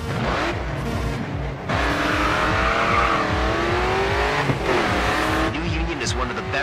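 A Chevrolet Camaro race car in the Grid 2 racing game, demolition derby event, roars loud and close with shifting engine pitch, revving and tyre squeal, continuous for several seconds.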